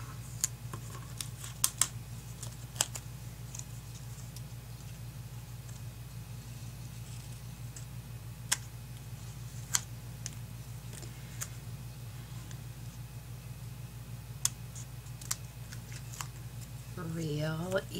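Scattered sharp snips of scissors trimming excess card from an explosion card sound over a low background hum, with a brief voice near the end.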